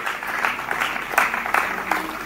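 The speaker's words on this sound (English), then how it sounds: "Please give them a round of applause again." Audience at a South Asia learning summit applauding, a brief burst of many hands clapping with a few sharper claps standing out, fairly loud and close, with no speech.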